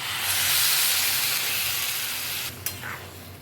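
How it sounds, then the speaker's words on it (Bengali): Water poured into Gobindobhog rice frying with spices hits the hot pan and sets off a loud, close hissing sizzle that slowly fades. A short sharp clink sounds near the end. "এখন এর মধ্যে দিয়ে দেব জল।"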